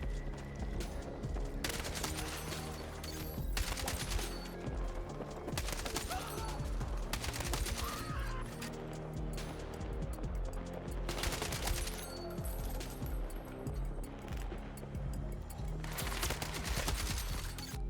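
Automatic gunfire from a held trigger in Battlefield 6 rattles on in dense, steady bursts for the whole stretch, loud and close, with brief gaps between long strings of shots and no talking.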